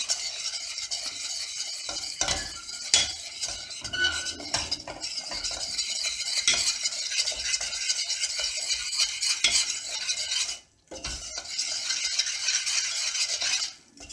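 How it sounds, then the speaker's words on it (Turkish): Aside, a Kayseri dessert made with grape molasses, being stirred in a pot, a dense continuous scraping and clinking of a utensil against the metal with a brief pause near the end. "karıştırmaya devam ediyoruz."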